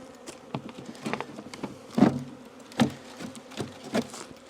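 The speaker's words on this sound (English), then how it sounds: "They're not stupid, the bees." Honeybees buzz around an open hive during an inspection, several close passes flying by the microphone in uneven bursts over a softer background hum, with no talking.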